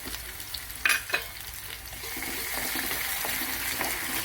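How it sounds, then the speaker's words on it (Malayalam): Shallots and salt sautéing in a pan for a sardine curry, with a couple of sharp utensil knocks early on, then a steady, rising sizzle with faint stirring. "ചെറിയുള്ളി വഴറ്റുമ്പോൾ തന്നെ ഞാൻ ഉപ്പിടുന്നുണ്ട്"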